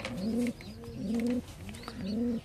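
Homing pigeons coo close by in three evenly spaced, rolling calls, each a low throaty warble followed by a brief pause, over faint background noise.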